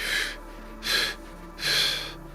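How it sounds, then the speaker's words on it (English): Three quick, forceful breath exhales in a group breathing exercise, evenly spaced bursts of airy rushing sound, close and clear with no talking over them. "So please do 3 quick exhales with me"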